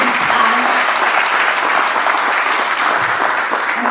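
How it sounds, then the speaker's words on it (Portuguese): Audience at a university conference applauding the rector, a dense, steady wash of many hands clapping close by, sustained throughout without letup. "Meus caros, uma salva de palmas para o Sr."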